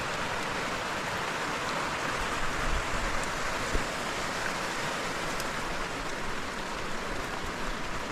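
Steady rain falls on a mountain hillside, likely drumming on sheet metal and banana-leaf roofing, a dense continuous hiss that stays even and close for the whole stretch with no voices.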